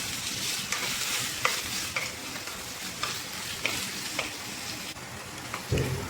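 Chicken wings adobo stirred in a pan with sautéed aromatics, a steady sizzle broken by repeated spoon scrapes and clacks against the pan at an irregular pace, close up and without speech.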